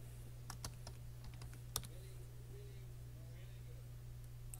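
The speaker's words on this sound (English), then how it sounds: "Let me go ahead and type live." Light, sparse keystrokes on a computer keyboard, a few quick separate clicks over a steady low electrical hum, fairly quiet and close.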